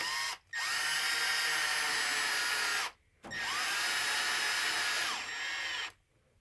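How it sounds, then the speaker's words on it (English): A Milwaukee M12 cordless drill whirs loudly in two long runs driving screws into protective skid plates on a Losi DBXL-E RC truck, each run slowing as the screw seats, separated by brief pauses. "This is what I'm going to use it for this Milwaukee M12 drill"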